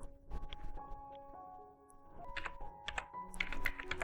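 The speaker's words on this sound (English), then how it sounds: "type here your game name" Quick bursts of typing on a computer keyboard, clustered key taps near and fairly quiet, with a brief pause midway before the tapping resumes.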